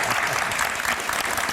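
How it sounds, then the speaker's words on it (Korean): Steady, close audience applause from a studio audience during a Korean Christian talk show, a brief burst of dense clapping throughout. "우리 박수 한번 드리죠"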